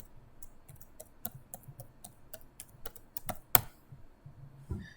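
Someone types a password on a computer keyboard at a desk, with close, crisp key clicks in uneven bursts, a sharper keystroke near the middle and short pauses between runs, with no speech.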